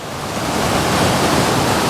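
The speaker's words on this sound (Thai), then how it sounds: "เสียงน้ำตก เสียงของน้ำตกที่มันตกเนี่ย" A waterfall in Tat Ton National Park, in a valley of Thailand's Isan region, gives a steady, close rush of falling water that holds an even level throughout with no voices.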